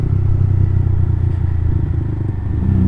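A Honda CB150R motorcycle fitted with a long DOS full-system muffler runs at low to mid revs, giving a loud, close, steady rumbling exhaust note with no talk.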